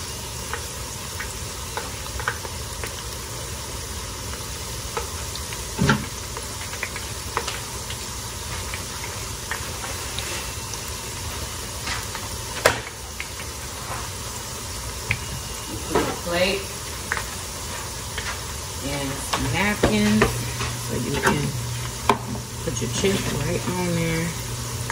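Tortilla chips fry in a pan with a steady bubbling sizzle over about twenty-five seconds, joined by scattered clinks and clatter and someone talking throughout.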